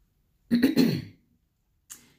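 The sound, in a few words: throat clearing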